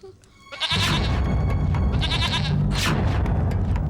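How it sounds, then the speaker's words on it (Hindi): Goat bleating, a few loud wavering calls in a row over a dense, busy background of sound, with no speech. "वो बकरी देख रहे हो तुम?"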